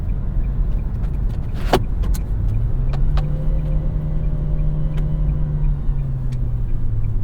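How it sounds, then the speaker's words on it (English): A 2023 Nissan Versa engine hums low and steady from inside the cabin, with a sustained rumble, a brief mechanical click, and a faint CVT whine rising partway through. "you can hear like the car going"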